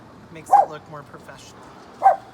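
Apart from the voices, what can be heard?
dog barking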